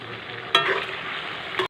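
Meat fries in a pan with a soft, steady sizzle and a couple of brief scraping stirs, fairly quiet and close.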